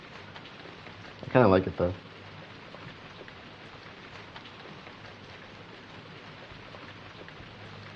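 Steady heavy rain hisses evenly throughout, broken by a short burst of speech near the start.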